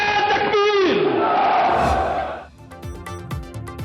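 A large crowd roars a chanted response to a Takbir slogan at a political rally, a loud massed shout that swells and then trails off, followed by a voice over rhythmic tones.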